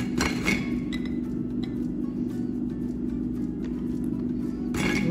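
A small piece of biscuit is snapped off by hand during dessert assembly, giving a few brief, dry cracks near the mic, with crisp crumbly snaps at the start and end over a steady kitchen hum.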